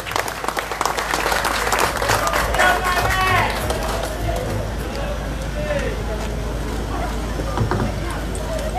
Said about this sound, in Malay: berikan tepukan yang paling gemuruh untuk Ahli Parlimen Tanjung Malim